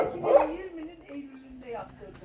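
A dog barks and yips at other dogs passing by, a few short sharp barks close by mixed with a person talking.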